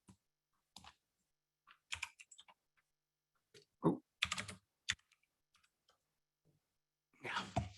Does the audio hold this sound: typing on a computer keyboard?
yes